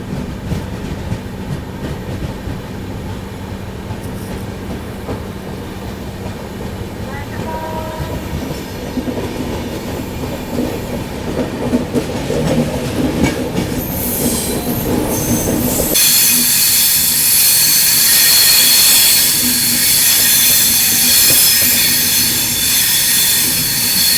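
Chennai–Trivandrum AC Express running on after Kollam Junction: a steady rumble of wheels on track with rhythmic clacking, swelling into a louder, hissing roar with high wheel squeal in the later half, no voices.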